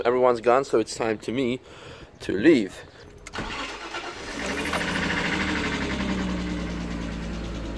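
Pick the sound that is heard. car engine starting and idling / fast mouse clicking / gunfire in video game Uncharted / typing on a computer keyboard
car engine starting and idling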